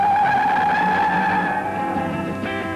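A car launches hard off the line during a road test, engine howling with a strong rising whine and tire squeal, loud and close throughout, easing slightly before a fresh surge at the end.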